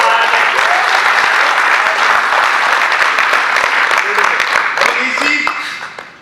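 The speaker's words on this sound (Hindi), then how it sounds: "इन्हीं लाइनों पे ताली बजेगी" At a comedy and poetry show in a hotel venue, a crowd breaks into loud, sustained applause with crisp individual claps, continuing steadily before fading at the end, with some voices underneath.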